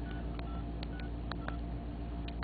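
Telephone keypad dialing tones while calling a toll-free number on an unlocked phone, a quick irregular series of short beeps over a constant low hum, fairly faint.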